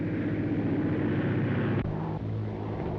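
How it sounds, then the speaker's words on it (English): A plane arriving in a 1930s film serial, heard as a steady, loud droning engine roar with a low hum that shifts abruptly partway through, with no voices. "And now, they're arriving by airplane."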